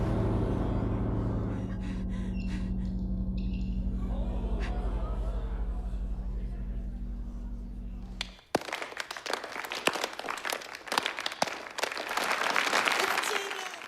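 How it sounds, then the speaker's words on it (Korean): Audience applause breaks out in a horror film, a sudden dense burst of clapping following a loud sustained musical drone that cuts off abruptly. "그 모습조차 공연의 일부라고 착각한 관객들은 오히려 뜨거운 박수를 보내기 시작하죠."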